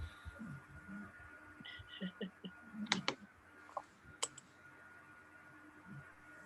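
Someone types on a computer keyboard during a school board retreat meeting, with scattered soft clicks and a few sharper key taps in a quiet room, no talk over them.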